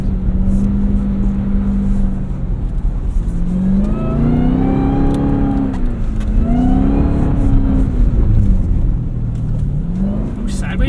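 A 2026 Dodge Durango SRT Hellcat Jailbreak AWD with 710 hp revs hard while sliding through snow at a rally school, its engine note rising and falling in repeated loud sweeps, with people talking over it.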